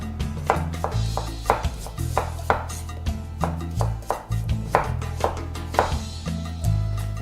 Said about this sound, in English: And the quarters I'm gonna slice into slices about 1/4 inch thick